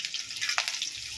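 Chopped garlic and chilli hit hot oil in a wok for chow mein, giving a short, faint, bright crackling sizzle with no voices.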